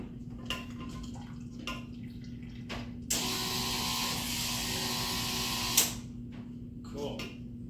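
Home-brewed beer running through a siphon hose into a secondary fermenter, with a steady broadband rush of liquid in the middle of the stretch, trickles and small knocks on either side, and a constant low hum beneath.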